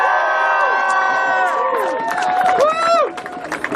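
A crowd of climate and divestment organizers cheers and whoops at a Democracy Spring sit-in, loud overlapping shouts and rising voices close by that thin out into scattered calls near the end.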